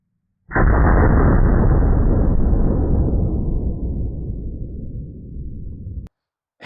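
A single loud, close blast from a .500 Bushwhacker revolver fired outdoors at a target, followed by a long rumbling decay of roughly five seconds that cuts off abruptly.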